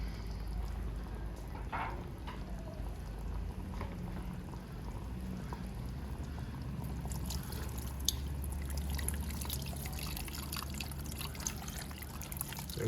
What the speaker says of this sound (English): We're just going to pour in the palm mixture